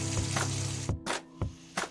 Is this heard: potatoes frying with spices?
yes